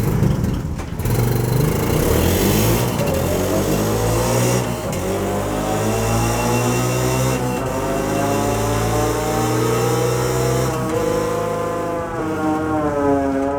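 An ATV engine runs on a dynamometer in a power equipment shop, revving loud and steady with rising and falling harmonic tones throughout, close up and with no talk.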